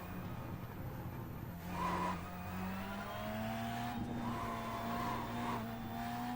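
A rallycross car in iRacing drifts with the handbrake, the engine droning and rising in pitch as tires squeal through the slide, heard alone at steady loudness.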